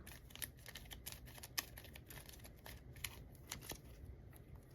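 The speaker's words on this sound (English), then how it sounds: "So first we're gonna shuffle our hands." Marvel Champions playing cards being shuffled by hand, a quiet, close run of quick papery riffles and flicks in a steady patter, with no talk.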